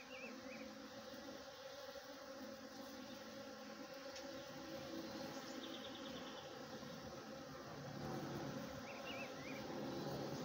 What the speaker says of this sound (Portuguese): Aí está aqui as abelhas aqui, ó.